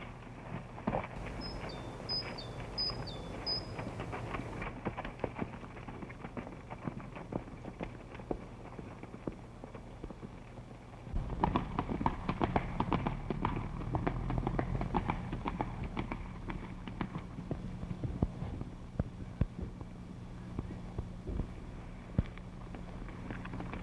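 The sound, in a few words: horse hooves clip-clopping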